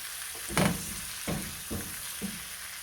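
Chicken pieces sear in oil in a pan, a quiet steady sizzle broken by a few soft thumps and clatters as pieces shift.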